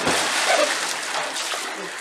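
Child jumping into a backyard pool gives a broad splash and sloshing water, steady and close across the short moment with no clear talk.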